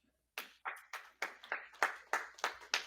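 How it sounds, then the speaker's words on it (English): Small audience at a university anniversary gala claps for scholarship award winners, starting abruptly after a moment of quiet; roughly ten distinct, sparse, moderately faint claps fall in an uneven rhythm, with no talking. "Everyone give them a round of applause."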